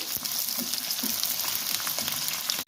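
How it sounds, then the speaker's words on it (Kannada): Two large long-cut onions fry in a pan with a cinnamon stick until brown, a steady close sizzle and crackle with faint stirring, uninterrupted and free of talk. "ಚೆನ್ನಾಗಿ ಹುರ್ಕೋಬೇಕು ಈರುಳ್ಳಿ, ಬ್ರೌನ್ ಕಲರ್ ಬರೋವರೆಗೂ."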